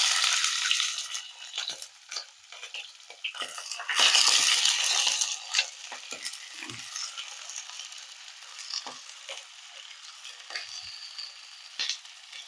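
Half a kilo of mutton fries in hot ghee in a pan, making a close, continuous sharp sizzle with crackles and pops, loudest early on and then settling to a steadier hiss, with no talking.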